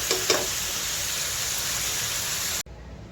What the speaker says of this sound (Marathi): फ्राय करून घ्यायचं आहे तेलामध्ये।